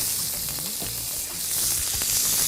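Prawns sizzle and fry in oil in a very hot pan, pressed down to caramelise, a steady loud hiss with occasional crackles and light stirring, close up.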